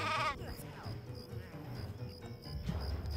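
Sheep bleats from the video game Craft The World sound under a busy bed of game music and ambient effects, with a few wavering cries spread through the stretch.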